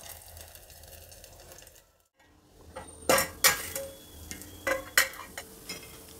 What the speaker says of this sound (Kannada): ಈಗ ಒಂದು ತಟ್ಟೆ ಮುಚ್ತಾ ಇದ್ದೀನಿ.